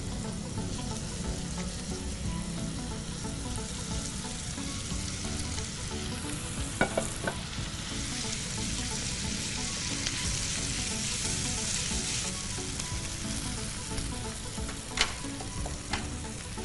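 Sautéed capsicum sizzles in a hot pan as gravy is stirred in, a continuous close frying hiss broken by a few sharp spoon taps against the pan.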